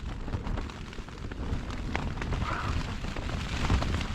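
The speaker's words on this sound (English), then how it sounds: "it's been raining all night, blowing a gale all night." Steady rain drums against a surface while gale-force wind roars continuously, a dense, loud wash of noise with no pauses, on Bamford Edge at night.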